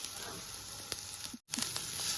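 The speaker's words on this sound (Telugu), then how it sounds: "ఉల్లిపాయ అంతా బాగా వేగిపోయిందండి" Onion frying in oil with ginger paste and curry leaves for a spicy egg masala curry, giving a steady close sizzle with a few faint clicks and a brief dropout partway through.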